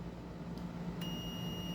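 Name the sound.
multimeter continuity beeping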